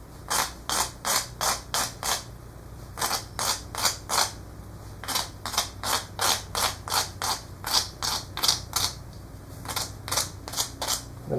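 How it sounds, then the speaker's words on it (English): A hand rasp scrapes a rotating wooden dowel into a taper, in rhythmic groups of rough close-up strokes with short pauses between runs. "I'm just constantly rotating it slowly as I rasp off wood."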